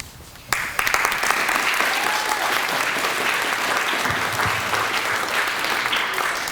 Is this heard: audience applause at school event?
yes